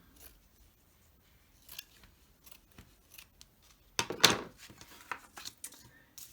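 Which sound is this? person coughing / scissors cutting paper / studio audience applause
scissors cutting paper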